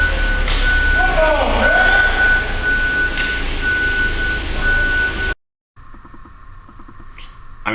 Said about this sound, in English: The forklift beeps on its own when it's backing up.